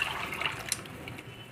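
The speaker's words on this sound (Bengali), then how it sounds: "আমার ডাল ফুটে এসছে।" Lentil dal bubbles in a pot, giving a soft, close, watery simmer with small pops and a brief splash, fading slightly toward the end.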